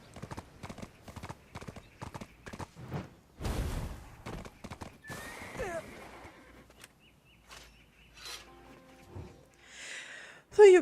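Horse hooves clip-clopping in a quick, even series in the video game Black Desert, then a whinny and snorts, with game chatter and a voice heard over the later part.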